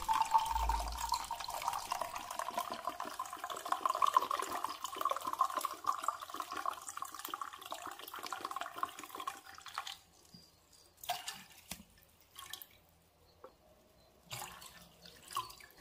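Tap water and white wine vinegar splash into a small saucepan, a steady rushing pour for about ten seconds, then scattered brief splashes and drips before quiet.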